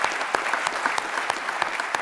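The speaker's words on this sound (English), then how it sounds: "that's a round of applause for that one" A crowd claps steadily, a dense patter of many hands applauding without pause for a couple of seconds.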